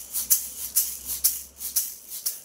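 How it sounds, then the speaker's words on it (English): Egg shakers rattling in a steady rhythm, about eight bright, hissy shakes in quick succession, close up and isolated. "And now, egg shakers."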